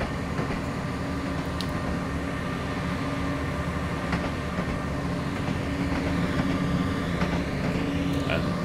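A long train in Train Simulator 2015 rumbles steadily along the track, a continuous loud roll with a low hum and faint rhythmic clatter, with no talk over it.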